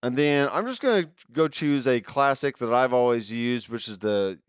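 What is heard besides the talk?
None of the usual background noises is heard.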